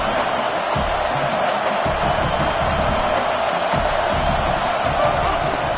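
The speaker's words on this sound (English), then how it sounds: "This Auburn crowd trying to conjure up a little magic here on third down." Auburn's stadium crowd roars steadily in a College Football video game, a dense, constant wash of cheering and noise with occasional low thumps, loud throughout and with no pause.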